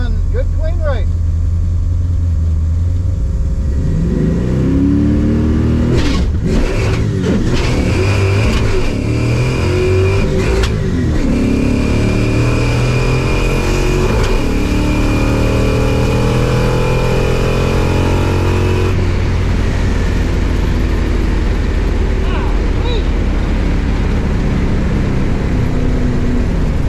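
A rebuilt Mustang racer's engine revs and roars in a drag race, a loud continuous engine drone rising and falling over nearly half a minute, with crowd or announcer voices mixed in beneath it.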